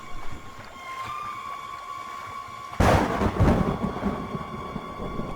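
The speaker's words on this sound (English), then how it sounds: "A storm is coming." A thunderstorm rumbles with a sudden loud crack of thunder partway through, followed by a sustained broad roar over a steady ambient hum.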